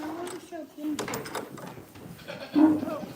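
Goats on a goat farm bleat near a barn door, a couple of distinct wavering calls, one at the start and a louder one near the end, amid people talking and some clattering.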